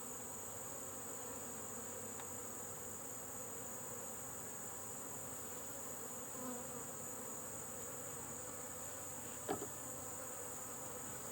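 Honeybees in a Layens hive buzz in a steady, close swarm hum, with a couple of brief sharp knocks against the box.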